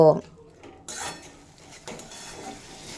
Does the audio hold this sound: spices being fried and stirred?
yes